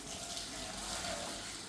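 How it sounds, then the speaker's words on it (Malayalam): Water runs steadily from a tap as green chillies are washed under it, a close, even, faint gushing with no pauses. "ശരിക്കും തേച്ചരച്ച് കഴുകടാ"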